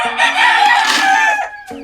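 A single loud rooster crow, close and strained, drawn out for over a second before trailing off into a short cluck.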